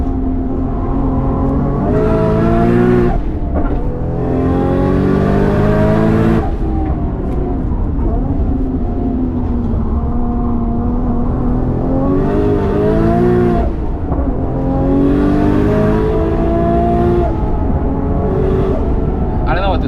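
An 850 hp Nissan Skyline R34 GT-R V-Spec lapping the Nürburgring on cold tires, heard loud from inside the car as the engine repeatedly revs up through the gears, broken by sharp gear-change dips, with a driver talking over it.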